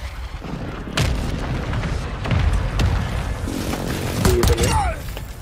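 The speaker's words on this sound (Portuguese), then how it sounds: "Jogaram granada em mim." Grenade blasts and gunfire in the video game Warzone 2 boom through a busy, noisy mix, with several thudding hits and crackling bursts over a steady background din. A player talks over it.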